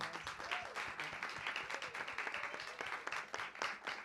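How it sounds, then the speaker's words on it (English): Audience at a panel event gives the panelists another round of applause, a moderate, fairly sparse clapping with distinct individual claps, heard at a distance and without talk over it. "Can we give them another round of applause?"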